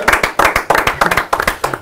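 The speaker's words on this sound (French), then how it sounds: "Eh ben, applaudissements." An audience claps steadily for a couple of seconds, a close, dense patter of hands with no voices over it.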